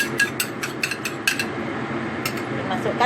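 Egg white being stirred into boiling-hot wax gourd soup in a cooking pot, with a utensil tapping and clinking against the pot in a quick irregular run of close, bright knocks over a low steady background.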